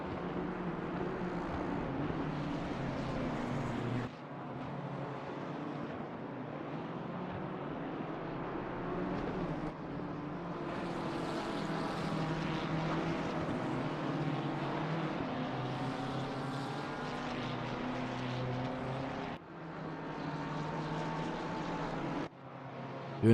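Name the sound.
Ferrari racing car engine at Brands Hatch, Assetto Corsa Competizione game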